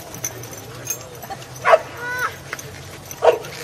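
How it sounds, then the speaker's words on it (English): Two dogs tug a towel between them, giving muffled growls and short whimpering yips in brief bursts. A voice talks over the play. "She can't growl too much because she'd have to open her mouth a little bit to growl louder."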